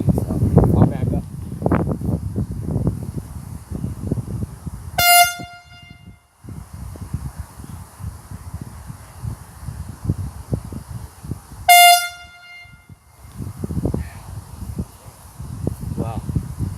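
Bazooka air horn blasting outdoors, two loud, sharp honks several seconds apart between stretches of rustling and handling noise, heard up close.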